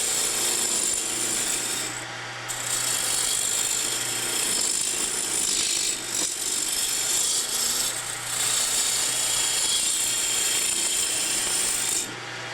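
A sharp turning tool peeling wood on a spinning lathe makes a loud, continuous rough hiss with a steady low motor hum underneath, briefly easing off a few times as the cut lifts, close and without talk.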